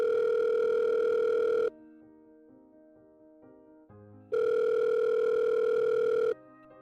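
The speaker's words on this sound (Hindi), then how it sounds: "फिर एक दिन उसकी मम्मी को स्कूल की टीचर से फोन आया" A telephone rings for a call from a school teacher in a puppet show, heard as a loud steady electronic tone in two long bursts with a quieter melodic gap between them.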